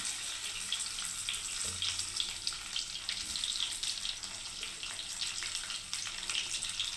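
Eggplant pieces fry in hot oil, a soft continuous hiss and spatter at moderate distance with occasional small bumps, no voices.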